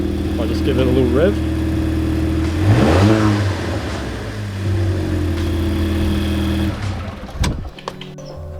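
A loud car in a garage idles and is given a couple of quick revs, the engine pitch sweeping up and back down before returning to a steady rumble, followed by a brief clatter near the end.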